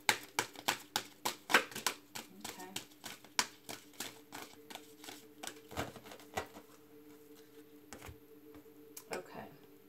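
Tarot cards shuffled by hand, a quick series of sharp riffling clicks and slaps that thin out into occasional taps, close and fairly quiet, with a few soft sounds near the end.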